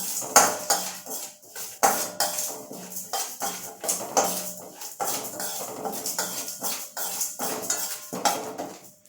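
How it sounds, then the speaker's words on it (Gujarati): Spices dry roasting in a pan over a low gas flame for mango and chili pickle, stirred with a metal spoon that scrapes and clinks against the pan in a steady, repeated rhythm, close and fairly loud, with no talking. "તો જ્યાં સુધી મસાલામાંથી સુગંધ ન આવવા લાગે ત્યાં સુધી આપણે તેને ધીમા ગેસે ડ્રાય રોસ્ટ કરી લેશું."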